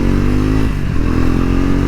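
Triumph Speed 400 motorcycle being ridden, a loud close engine drone with steady throbbing and rushing wind noise throughout, no voices over it.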